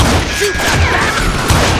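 Gunfire in the video game Call of Juarez: Gunslinger, a dense, loud burst of overlapping shots and impacts filling the whole short moment with no pause.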